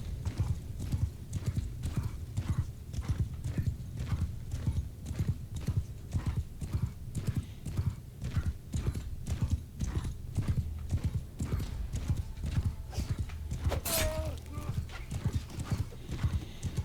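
Cavalry and horse archers galloping across sand in a Mount & Blade II: Bannerlord battle, dense rapid drumming of many hooves throughout, with a brief whinny and a sharp crack late on.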